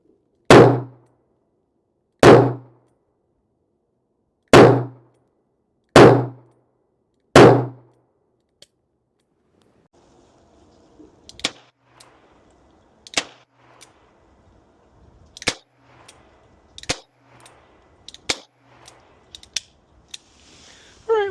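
Smith & Wesson Ultimate Carry J-frame .38 Special revolver firing five sharp, loud shots about two seconds apart, followed by fainter metallic clicks and clatter of handling, close-up with no talking.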